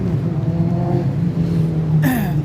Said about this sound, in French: Donc les motos, vous pouvez entendre, continuer à arriver les amis.